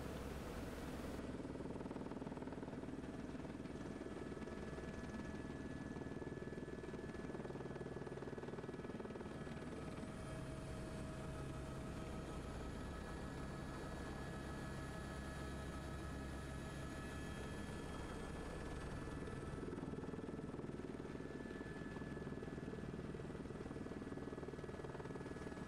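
Aircraft engine and rotor drone while landing near a steaming fumarole in Iceland's volcanic terrain, a constant loud mechanical roar filling the whole stretch with no voices.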